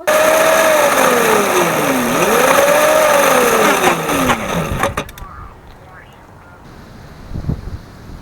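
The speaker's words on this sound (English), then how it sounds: "I made the decision to ride my dirt bike" A dirt bike engine runs loudly close by, its pitch rising and falling with throttle through the first few seconds before cutting out, with wind buffeting the microphone and quieter background afterward.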